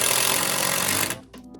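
An impact driver hammers screws into a door hinge while a door is hung, a dense loud rattling burst for about a second, then it stops and a couple of faint taps follow.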